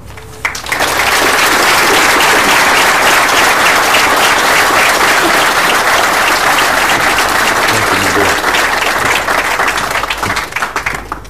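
A graduation audience at Perry Technical Institute bursts into loud, sustained applause for Senator King, a dense wash of clapping that holds steady for about ten seconds before tapering slightly at the end.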